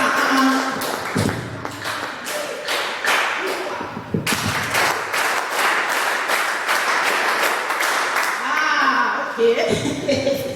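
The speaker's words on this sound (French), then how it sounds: "Si vous comprenez, applaudissez 10 fois." Church congregation at a Sunday service claps in loose, uneven bursts, many hands striking with thuds and taps, the applause swelling and fading across the clip amid scattered voices.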